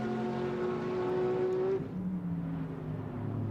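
A GT America race car, a front-engine Mercedes-AMG V8 or flat-six machine, powers out of turn 4 at Sonoma, its engine note rising loud and close before dropping in pitch as it pulls away.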